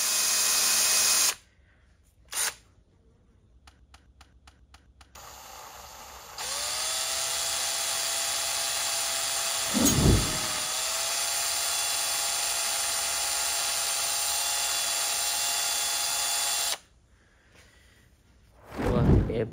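A small power drill whines steadily for about ten seconds boring a 1.5 to 2 mm hole, with brief starts before it and a short burst after, close by.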